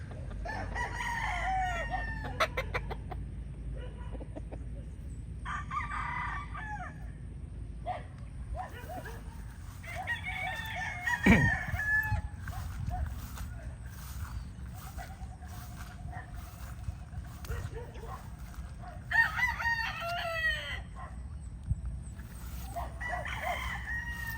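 Gamecock stags and bull stags, one a white straight-combed bird, crow several times at a farm, the loud crows spaced apart, with someone talking and a dog barking now and then.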